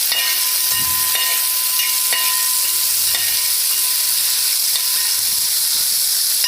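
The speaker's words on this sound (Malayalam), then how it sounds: "നന്നായി വഴറ്റിയെടുക്കണം" Green chillies and onions sautéing in a pan for Kuttanad-style duck roast, a loud, continuous hissing sizzle with soft intermittent stirring scrapes, no talking.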